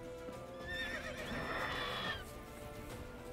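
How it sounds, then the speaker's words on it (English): A horse in The Witcher 3 video game gives a faint, high whinnying neigh that rises and falls for about a second and a half, with soft clip-clop and game ambience underneath. "Hello, little horsey."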